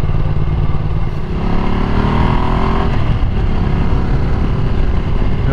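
A Ducati Multistrada 1200S motorcycle rides in second gear, its engine droning loud and steady up close with a rising pitch as it pulls, under constant wind rush.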